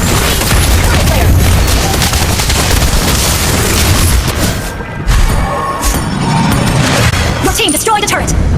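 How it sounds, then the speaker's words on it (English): Explosions and combat effects as a turret is destroyed in a MOBA video game: loud, dense bursts and booms layered over busy battle noise, with spoken game announcements on top. "Your team destroyed a turret."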